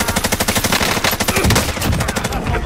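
A PKM machine gun fires in a rapid, unbroken burst during a video game match, the dense rattling shots loud and close and running the whole length.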